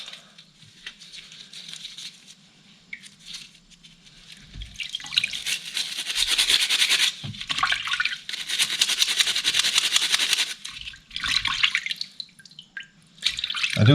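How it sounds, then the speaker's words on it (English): Brake cleaner is sprayed onto a Z1000SX motorcycle's brake pads, producing long, loud hissing bursts that stop and start, mixed with dripping and splashing over a sink. "I now blast this with some brake cleaner"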